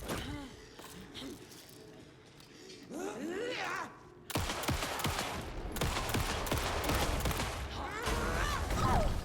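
Gunshots in Alan Wake 2, a volley of sharp shots and thuds that grows louder and denser toward the end, mixed with voices and game sounds.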